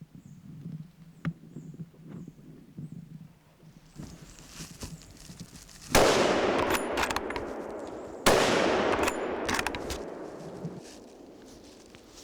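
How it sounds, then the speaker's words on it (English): Two loud rifle shots ring out several seconds apart during a wild boar driven hunt in woodland, each a sharp crack followed by a rolling echo, over quiet outdoor ambience with faint footsteps. "Not quite up to his usual standard, Jochen has to use 2 bullets here"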